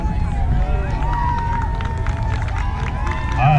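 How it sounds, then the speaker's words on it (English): Spectators at an outdoor track meet cheer and call out to runners finishing a race, a steady din of voices and shouts with a few scattered claps. "cheer these ones on as they come in"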